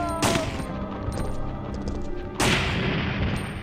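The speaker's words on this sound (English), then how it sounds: "there was a bomb over there. It just exploded." Two heavy blasts a couple of seconds apart in Resident Evil 3, a bomb exploding amid gunfire, loud sharp onsets followed by rumbling decay over dense game noise.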